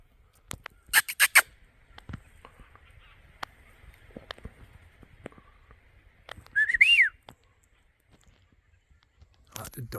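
Someone whistles a steady tone and a short rising-falling note, set among sharp clicks and knocks in a quiet outdoor space, with a brief burst of louder noise partway through.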